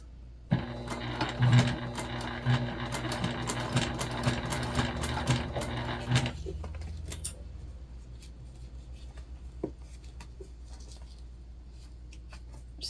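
A sewing machine stitches steadily through thick, bulky fabric on a modified Lindsport Mini Backpack, running loud and close for about six seconds, then stopping and leaving quiet handling noises and faint clicks.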